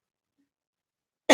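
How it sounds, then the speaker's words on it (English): A single sharp cough bursts out close and loud at the very end, after a stretch of near silence. "sorry for coughing"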